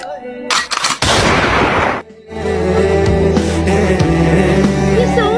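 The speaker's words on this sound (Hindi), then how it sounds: "गोली चलाओ, गोली चलाओ, गोली चलाओ, खुशी में गोली चलाओ।" Gunshot sound effects fired during a TikTok live stream: a loud burst of rapid shots, a short drop-out, then sustained tonal effects and warbling sounds.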